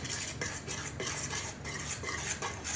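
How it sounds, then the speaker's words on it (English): A spoon stirs flour, oil and water in a bowl to make pasta dough, with soft steady scraping and clinking strokes, quiet and close, with no voices. "a teaspoon of oil, and we start to mix. We can start to mix with a spoon"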